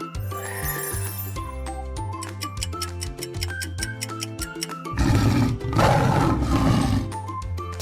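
A tiger roars over a loud, busy backing of rhythmic music with ticking and jingling sounds, and the roar swells into a harsh, noisy burst near the end.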